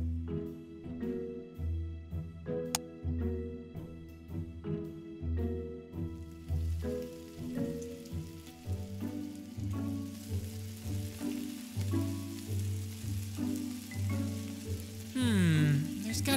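Food sizzling while cooking in Minecraft, a dense steady crackling hiss that swells in after a stretch of light background music and carries on loudly to the end.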